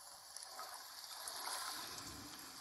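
Gently flowing river water runs steadily throughout, a soft continuous wash of current and light splashing with no voices.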